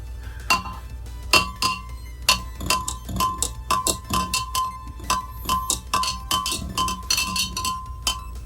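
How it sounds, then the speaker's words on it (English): A knife stirs inside a small glass flask, making bright clinks and taps in an irregular quick series, close and distinct. "Sorry for the clinking noise."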